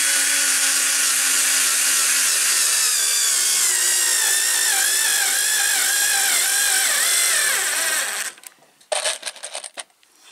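SKIL 2710 cordless screwdriver drives a screw into hard wood, a loud continuous whining motor with a wavering, straining pitch for about eight seconds, then it stops and a few short bursts follow.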